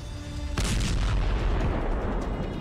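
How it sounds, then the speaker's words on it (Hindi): A cruise missile fired from a warship strikes its target in a big explosion: a sudden loud blast with a sharp onset, then a sustained deep rumbling roar that carries on without fading. "ये मिसाइल किस तरह अपने टारगेट की तरफ बढ़ती है और फिर होता है बड़ा धमाका"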